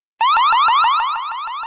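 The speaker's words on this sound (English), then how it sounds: "Or let the 105 decibel siren do the talking." A WiseCam floodlight camera's 105 decibel security siren blasts suddenly and very loud, sweeping up in quick repeated rising whoops, alone.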